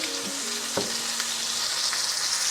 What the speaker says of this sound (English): you want to sear that outside, brown it, and the inside will be a little bit pink.